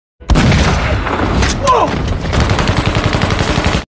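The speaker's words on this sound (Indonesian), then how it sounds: "anak buah Jay tak sengaja tertembak saat berdiri" Gunfire in an action film about a special squad fighting thugs: a loud close gunshot bursts in suddenly, followed by rapid repeated shots and booming impacts that continue to the end over a dense soundtrack.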